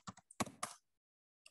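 A few quick bursts of computer keyboard typing into a Google Sheet spreadsheet, close and crisp clicks in short clusters, then a pause before one last light tap.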